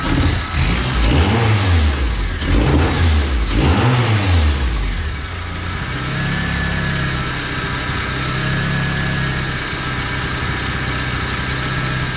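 A 1994 Honda Accord engine, with its throttle cable not yet connected, revs loudly in two rising surges, then settles into a steady, even idle up close, with no voices.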